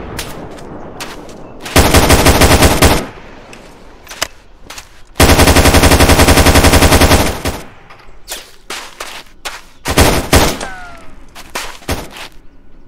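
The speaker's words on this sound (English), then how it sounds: "they're firing at us" Video game gunfire crackles in two long, loud automatic bursts, separated and followed by scattered single shots and short volleys, close and harsh with no talking.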